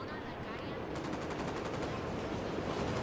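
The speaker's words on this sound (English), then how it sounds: "Shots fired." Rapid automatic gunfire rattles in the video game Ghost Recon Wildlands, sustained bursts of sharp repeated shots close by for several seconds.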